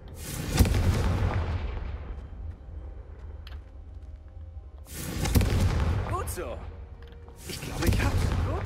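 Fiery Confringo spell blasts in Hogwarts Legacy, a video game: three loud booming explosions with rumbling decay, at the start, around five seconds and near eight seconds, over constant low game ambience.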